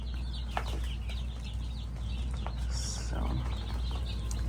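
Young chicks on their first day in a new home cluck and peep softly over a steady low hum, scattered faint calls rising here and there, with no one talking.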